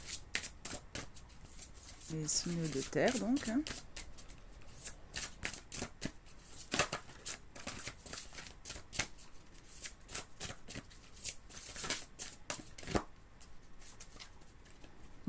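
A deck of oracle cards is shuffled repeatedly, with brisk riffling bursts and papery slaps close by, while someone speaks in French over much of it.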